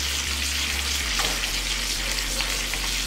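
A pork chop searing in a frying pan, a loud, steady hiss of sizzling fat with a low hum underneath and no voices.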